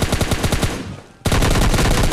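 Rapid automatic gunfire in PUBG Mobile Lite, a loud close burst of evenly spaced shots that pauses briefly, then resumes as a dense continuous volley.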